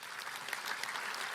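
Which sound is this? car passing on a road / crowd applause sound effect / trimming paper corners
crowd applause sound effect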